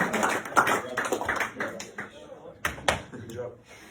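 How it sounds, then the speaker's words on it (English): A small group claps briefly for a man, a loose patter of hand claps that fades out, then two sharper bursts near the end. "give him a clap"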